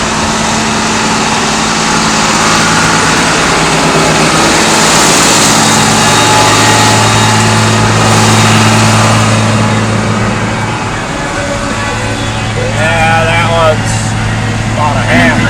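Steady low hum of a generator engine that has run for hours, droning continuously and close by while someone talks over it.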